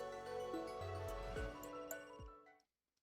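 A telephone rings in a video game, a short electronic ringtone with stepped tones lasting about two and a half seconds before cutting off into silence, fairly quiet and alone.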